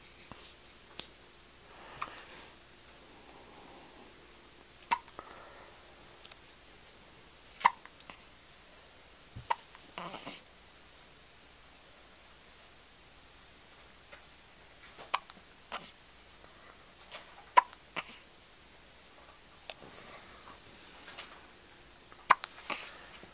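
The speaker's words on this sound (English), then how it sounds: "he's got the hiccups" A small boy hiccups repeatedly indoors, sharp short gulps spaced a few seconds apart, close and fairly loud against a quiet background with faint breathing between.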